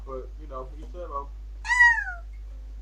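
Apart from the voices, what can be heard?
pet cat meowing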